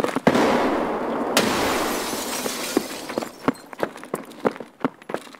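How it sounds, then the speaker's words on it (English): A grenade blast in the shooter Escape From Tarkov, heard as a loud burst followed by a crackling, debris-like wash that fades into scattered sharp clicks and impacts, with no talk over it. "Throwing a nade."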